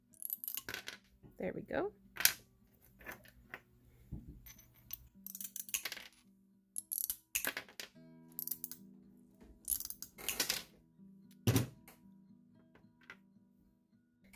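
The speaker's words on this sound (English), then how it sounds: "chunking it with the tile nippers works perfectly fine" Tile nippers chunk fused purple glass, giving several sharp, brief snaps and crunches scattered among shuffling handling noise, close up, while a person talks and exclaims between cuts.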